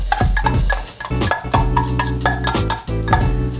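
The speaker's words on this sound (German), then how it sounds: "4 Esslöffel Basilikumpesto dazu. Und das tue ich jetzt natürlich auch gut unterverrühren." Basil pesto being stirred into a vegetable goulash of aubergine and peppers in a pan, with loud scraping and clinking of a spoon against the pan in irregular strokes, close up and with no talking.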